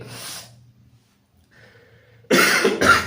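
A person with a cold coughs: one short cough, a quiet pause with faint breathing, then two louder, close coughs in quick succession.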